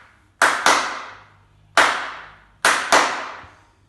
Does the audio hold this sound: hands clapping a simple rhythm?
yes